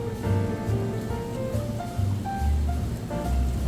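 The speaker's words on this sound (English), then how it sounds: "we got to add water to the power filter from the aquarium" Aquarium water poured into a power filter gives a continuous, fairly loud gurgling rush with bubbly ripples throughout and no voices.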